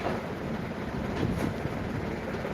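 Strong wind with rain outside a house makes a steady, dense roar and rush that continues unbroken throughout, loud and close, with no one talking.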